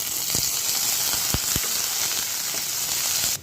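Onion hits hot oil in a pan and fries with a loud, continuous sizzle, marked by a few sharp crackles early on and then an even hiss to the end, with no talking.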